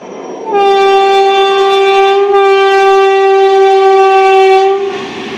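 A Sealdah suburban local train, a 12-coach EMU, sounds one long, loud, steady horn blast for about four seconds, very close and unaccompanied by talk.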